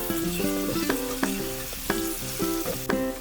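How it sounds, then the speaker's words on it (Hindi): Potatoes frying with ground coriander and deggi chilli powder in a pan. The sizzle is steady and close, and a spatula clinks and scrapes against the pan in a regular rhythm, with no one talking. "मसालों के साथ आधा मिनट भूनेंगे।"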